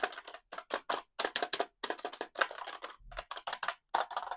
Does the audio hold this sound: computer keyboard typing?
yes